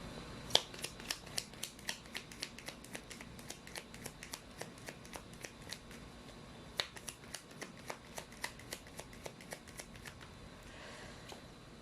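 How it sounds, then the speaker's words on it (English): Tarot cards are shuffled and drawn. Soft, crisp riffling snaps repeat in a steady rhythm throughout, fairly quiet and close, with no speech. "let's pull up more cards"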